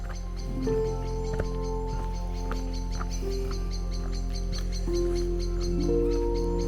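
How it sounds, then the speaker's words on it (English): Birds chirp and call intermittently in Lydford Gorge near a brook, over a steady low background hum, with several short tweets scattered across the stretch. "Hear that bird?"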